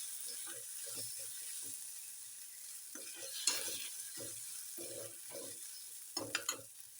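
Onion and tomato frying in a pan for a green bean dish, soft sizzling with repeated scraping stirs in short bursts, quiet and close, with a few sharper clanks near the end.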